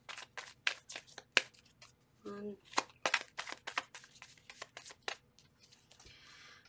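Tarot cards are shuffled in a quick run of crisp riffling snaps, close by, with a brief word spoken partway through.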